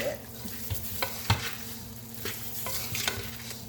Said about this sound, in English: Get your spoon and just mix all that around together.